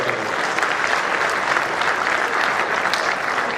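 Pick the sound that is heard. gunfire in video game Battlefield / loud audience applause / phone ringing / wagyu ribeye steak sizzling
loud audience applause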